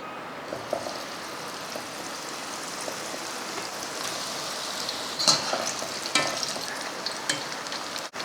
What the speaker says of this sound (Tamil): பன்னீர் வறுத்து எடுத்துடலாம் அதுக்கு எண்ணெய் ஊற்றுவோம்